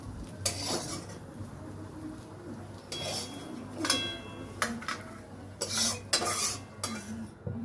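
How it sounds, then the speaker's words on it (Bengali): Fried shrimp being lifted from a pan onto a plate: intermittent metal scrapes and clinks of a utensil against cookware in short bursts, with quieter gaps and a faint sizzle underneath. "আমরা এবার এই চিংড়ি মাছগুলোকে একটা প্লেটের মধ্যে তুলে নেব।"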